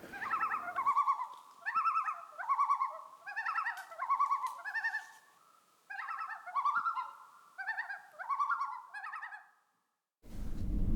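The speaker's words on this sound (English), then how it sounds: "we found a campsite right beside the road on a little lake where we enjoyed watching and listening to the loons" Loons calling on a small northern Ontario lake in the evening: a long series of loud, wavering, yodel-like phrases repeat one after another and ring out alone over still quiet, ending in a short burst of noise.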